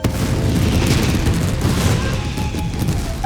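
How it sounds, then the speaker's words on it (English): Fireworks burst continuously in Genshin Impact, a dense, loud run of booming, crackling explosions overlapping one another with no pause, close and filling the whole stretch. "Yoimiya, this is turning into a bit of a fireworks display."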